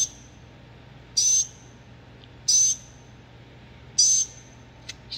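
A pet bird gives three shrill, high chirps spaced about a second and a half apart, close by over a quiet room hum, with a faint tick near the end.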